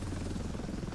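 A helicopter in the video game Ravenfield produces a steady, loud rotor drone with a rapid low chopping throb and no speech.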